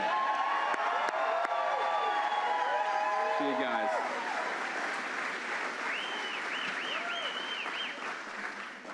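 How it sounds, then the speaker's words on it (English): Crowd applause for John Featherson and Steve Robinson at a fraud prevention event in Maine, with whoops and cheers. It stays loud and dense throughout, and someone speaks briefly over it near the end. "let's give a round of applause to John Featherson and Steve Robinson"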